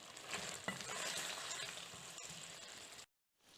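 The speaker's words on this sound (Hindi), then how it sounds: "अभी हम इसको अच्छी तरह से मिक्स कर लेंगे आलू के साथ" Fenugreek leaves and potatoes sizzle and fry in a pan as they are stirred together, a steady crackling hiss close up, with a few scraping stirs before a brief silence at the end.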